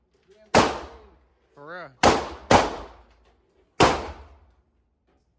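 A new semi-automatic shotgun fires four loud, sharp blasts outdoors: one, then a pair in quick succession, then a last shot, each with a decaying tail, and a person speaks briefly between shots.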